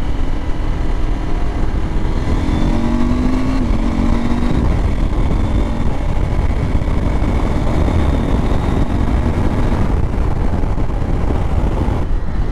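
Norden 901 adventure touring motorcycle engine pulling hard while passing cars, a loud continuous onboard roar mixed with heavy wind rush, pitch climbing in short steps through the gears.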